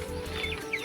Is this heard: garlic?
no